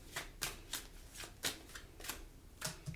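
A tarot deck is shuffled in soft, evenly spaced riffles about every third of a second, close but quiet over faint background hiss, with no voices.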